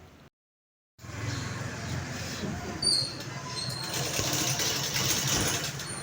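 Sewing machine stitching a blouse runs with a steady mechanical whir and rapid needle clatter, close and continuous after a short silent gap.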